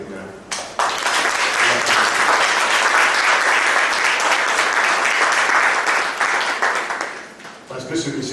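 A gathered audience at a spiritual training session gives a priest a long, loud round of steady applause that builds quickly and holds for several seconds before tapering slightly.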